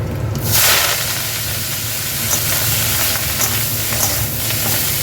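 Bathua greens dropped into hot oil with dried red chilli and black cumin, a sharp burst of hissing sizzle at first that settles into a steady crackling fry.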